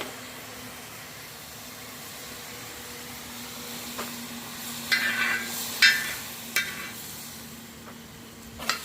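Seafood including scallops stir-fried outdoors on a disco cooker, a steady background sizzle with brief sharper spatters and scraping stirs near the middle and end.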